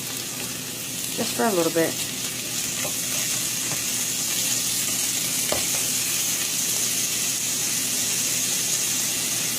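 Four scrambled eggs seasoned with salt and pepper sizzle in a frying pan for an omelette, a steady close hiss throughout with a few stirring scrapes, while someone speaks briefly near the start.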